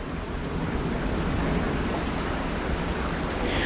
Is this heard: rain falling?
yes